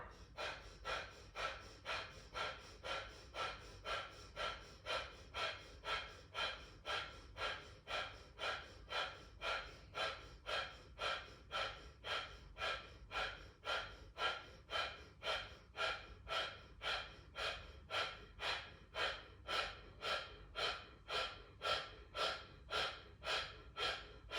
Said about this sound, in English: Deep breathing in and breathing out